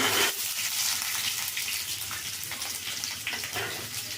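Onions sizzle and crackle steadily in hot oil in a home kitchen pan, a dense, fairly loud frying hiss that persists throughout with no talking.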